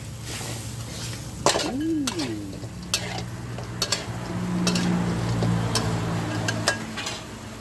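Fried blue fish tossed with chili curry paste in a hot pan: a spatula scrapes and clanks against the metal in repeated strokes over a lively, steady sizzle, close and fairly loud.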